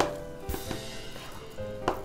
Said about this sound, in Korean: 이거를 양파를 좋아하는 크기로 잘라주시면 됩니다